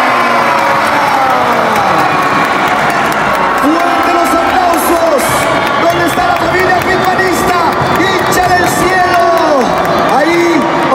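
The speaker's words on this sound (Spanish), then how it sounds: "¡Fuerte los aplausos!" An audience at an Adventist student band contest cheers during a podium announcement, with loud overlapping shouts, whoops and crowd noise that run continuously, sprinkled with light clapping.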